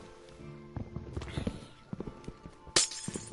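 Ice blocks breaking in a Minecraft Skyblock game, a run of short cracking, shattering hits with one sharp glassy burst near the end, over game footsteps.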